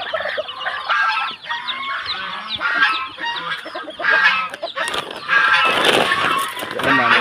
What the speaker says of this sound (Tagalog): Yan naman ang ating gansa.